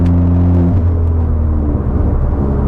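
Ford Fiesta ST with Stage 2+ tuning and a full straight-pipe exhaust and no air filter, idling with a loud, steady low drone and rumble and faint whirring, close by and with no one talking.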